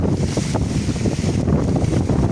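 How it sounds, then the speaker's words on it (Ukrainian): Strong wind buffets the microphone in an open field, a loud, steady roar with gusty low rumbling that persists throughout without pause. "вітер дує в нас капець"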